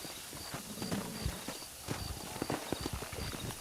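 Horse hooves clip-clop steadily at a walking pace in the Red Dead Redemption video game, over a dense, continuous background of game sound.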